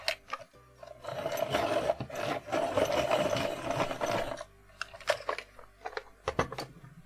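Colored pencil being sharpened, a dense steady rasping grind lasting several seconds, then a few short scrapes and clicks as the pencil is finished, close and alone with no talk.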